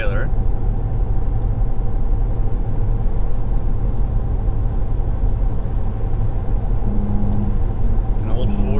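A 2019 Ford F-350 pickup with the 6.7 engine gives a steady, loud low rumble from inside the cab while it accelerates to pass a van towing a trailer on the highway.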